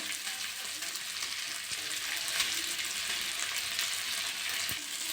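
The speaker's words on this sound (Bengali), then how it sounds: "সিদ্ধ আলুটা দিয়ে দিয়েছি সব ভালো করে মেশাই নেবো" Boiled potato being mixed into cooked cauliflower in a pan for cauliflower chop, giving a steady, fairly loud frying hiss with faint scraping underneath; no speech.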